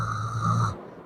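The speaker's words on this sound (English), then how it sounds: "They were doing the snoring." A single loud, close snore from a sleeping person, one drawn-out rasping breath lasting under a second before cutting off, with no talk over it.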